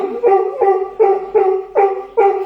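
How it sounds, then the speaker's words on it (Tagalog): A dog barks six times in a steady rhythm, close and loud, with short gaps between barks. "Ayan naman ang aso."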